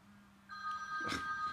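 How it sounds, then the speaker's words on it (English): A telephone ringing, a short electronic tonal ring that starts partway through, close and moderately loud, over a quiet indoor background. "My phone's ringing."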